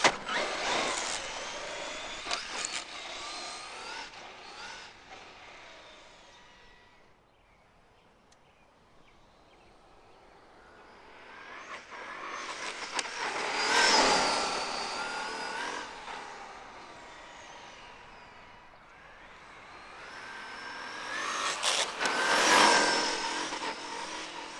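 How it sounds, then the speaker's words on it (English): A Traxxas Maxx 6S RC monster truck launching and speeding along a road: high electric motor whine rising and falling as it passes close, fades off, then swells on repeated loud runs, with no talking. "I want to do a launch on the road."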